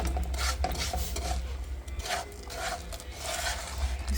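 A spoon scrapes and rubs through a thick coconut candy mixture in a cooking pot, repeated rasping strokes at an uneven rhythm, close and moderately loud with no voices.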